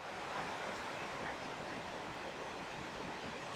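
Surging water of the Electric Brook falls at Schooley's Mountain, a steady broadband rush and roar that holds constant without pause, close and full.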